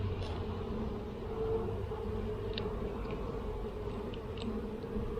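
Honeybees in an open hive during an inspection buzz in a steady, dense drone close by, with a few faint clicks and shifts but no talking.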